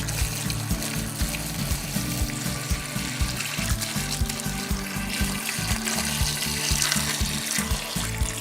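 Water pours steadily into a mash of bananas for Ugandan Waragi banana brandy, a loud, close, continuous gushing like a running tap with rhythmic low splashing throughout, and no talking.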